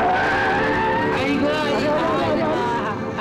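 A car brakes hard and skids on a road in a Marathi comedy film scene, a sustained tyre screech riding over a busy mix of street noise and voices.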